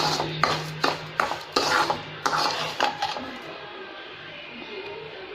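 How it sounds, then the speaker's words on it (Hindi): Semolina halwa cooking in a pan, a string of sharp metal clinks and scrapes from a spoon against the pan, irregular and close, fading into a quiet hiss toward the end, with no talking. "तो यहाँ पे बन रहा है मेरा सूजी का हलवा"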